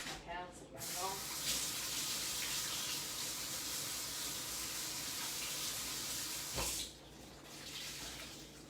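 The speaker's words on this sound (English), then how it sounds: "I'm gonna wash my hands again though." Kitchen tap running steadily into a sink while hands are washed, a loud close rushing hiss lasting most of the stretch before cutting off, then quieter sink sounds.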